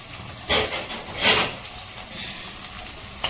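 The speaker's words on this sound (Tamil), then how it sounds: "இப்போது நல்லா இந்த வெங்காயத்தை ஹை ஃப்ளேமில் வச்சுருக்கேன்" Onions for a flat-bean stir-fry frying in a pan over high flame, a soft steady sizzle with a few louder stirring bursts, close up and without talk.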